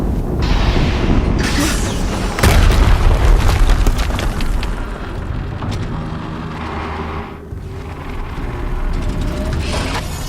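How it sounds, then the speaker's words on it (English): Explosions in the video game Horizon Zero Dawn boom with heavy low rumble, one sharp blast standing out early amid continuous loud rolling rumbles and mechanical game noise, no speech. "Another explosion."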